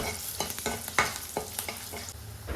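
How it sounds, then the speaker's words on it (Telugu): Rasam spices fry in a pan with a soft background sizzle, while a spoon scrapes and stirs in irregular strokes, close and fairly quiet. "కలుపుతూ బాగా ఫ్రై చేసుకోవాలి"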